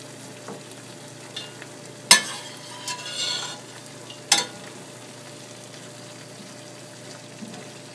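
Butternut squash, sweet onions, red peppers, roasted tomatoes and garlic are stirred in a pan over a quiet, low sizzle, with a few scraping clinks of the utensil standing out.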